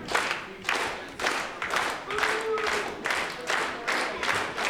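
At an indie wrestling show, a crowd claps and cheers in rhythmic surging bursts, roughly once per second, loud and close, filling the arena.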